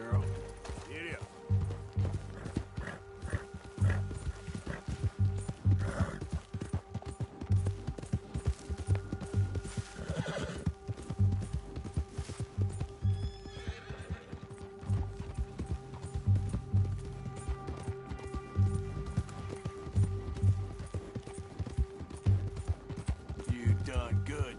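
Horse from Red Dead Redemption 2 galloping steadily, its rhythmic clip-clop of hooves running throughout under a game ambience, with a rider speaking to it at times.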